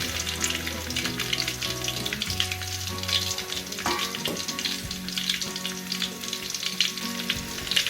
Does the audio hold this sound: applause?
no